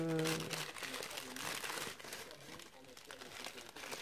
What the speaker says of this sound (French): on dirait du papier de cuisson au bruit.